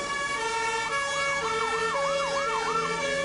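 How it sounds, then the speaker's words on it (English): Anti-riot police vehicles roll in with sirens blaring during a street protest, a loud and continuous wailing siren that sweeps up and down over a steady roar of traffic. "dozens of anti-riot police rolled in with sirens blaring"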